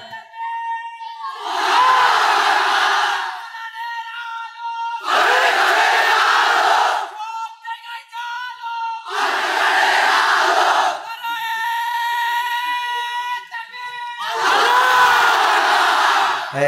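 A large crowd at an Islamic waz gathering in Joypurhat chants takbir in four loud, roaring unison bursts, each a few seconds long, separated by short gaps with a single amplified voice calling out between them.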